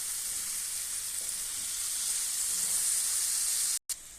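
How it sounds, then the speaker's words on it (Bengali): Fish sizzling steadily in a hot frying pan, a dense, even hiss that stays loud throughout and cuts out briefly near the end. "তো এটা ফ্রাই করতেছি"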